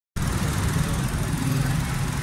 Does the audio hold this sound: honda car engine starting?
yes